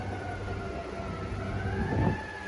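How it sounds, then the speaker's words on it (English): A faint ambulance siren wails at a distance on a downtown Sacramento street, its steady tone rising slightly toward the end over low background rumble. "I hear the ambulance, y'all."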